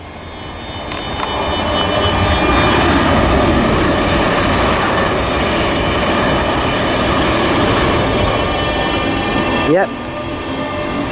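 A Class 380 electric multiple unit passes through Linlithgow station, rumbling loudly and steadily for several seconds before a sharp brake or wheel squeal near the end; a person briefly speaks.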